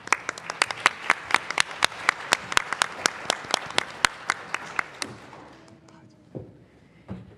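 Audience applause at a data science conference session: a steady run of sharp, loud claps for about five seconds, then it fades into faint room noise and a few soft thumps.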